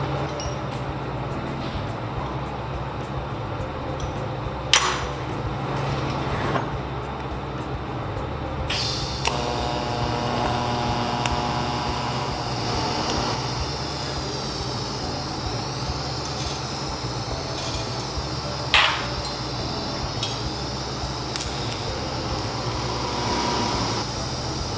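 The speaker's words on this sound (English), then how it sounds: "we got all 8 of those rosette welds welded" Steady, loud hiss and crackle of a welder laying rosette welds on a motorcycle bagger frame, running nearly unbroken for the whole stretch with a few sharp pops and brief louder bursts, no talking.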